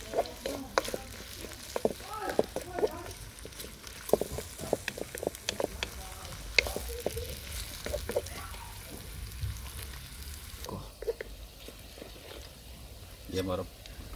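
Onions frying to light brown in a pan for a Pakistani fish handi, a steady close sizzle broken by frequent scraping and stirring clinks, with a voice talking at times.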